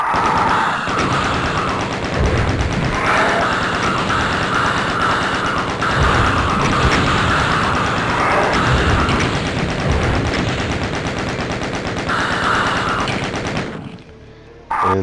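Rapid, sustained gunfire from the video game Doom, dense bursts of shots and blasts rattling almost continuously, loud and close, before cutting off abruptly near the end.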